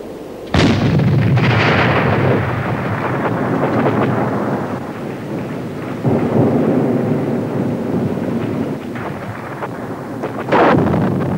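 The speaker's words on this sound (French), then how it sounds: "Le bruit de certaines pièces est tel que la plupart des servants doivent rentrer dans les abris." World War I artillery pieces fire in heavy booming blasts, with three or four big reports rolling into a dense, rumbling din, loud and continuous, with no talking.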